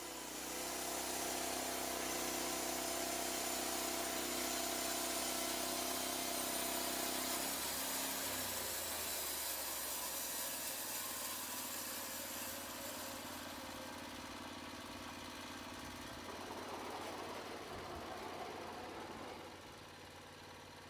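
The engine of a Lumber Pro manual sawmill runs steadily and loud up close, then its pitch shifts and it settles to a lower, quieter hum toward the end.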